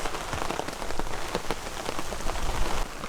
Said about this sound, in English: The rain is completely sideways.